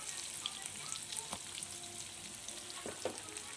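Diced tempeh fries in hot oil with a steady, close sizzle and a few sharp crackles and pops scattered through it. No one speaks.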